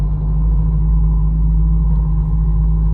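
Steady, loud low-pitched engine hum and road rumble fill the interior of a driving-school car cruising in the left lane in Manisa, continuous and even with no voices.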